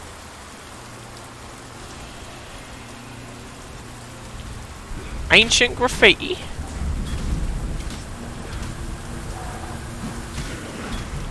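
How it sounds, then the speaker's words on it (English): Steady rain patters throughout a video game scene in Path of Exile, with a brief burst of thunder or crackle midway and a voice speaking over it. "I gotta say I love this rain sound effect."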